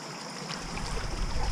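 A small creek flowing, a steady close rushing and babbling of water that grows slightly louder over about a second and a half, with wind-like noise and no voices.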